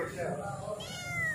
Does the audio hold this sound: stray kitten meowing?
yes